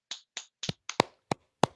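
Seven slow, deliberate handclaps in the style of the Joker ring out close and crisp, evenly spaced in near silence.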